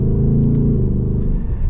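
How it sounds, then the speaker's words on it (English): A 2025 Ford Mustang GT Premium coupe with a V8 engine pulls away, its deep, loud engine rumble steady and close, easing slightly toward the end. "All right, so setting off now in the Mustang GT."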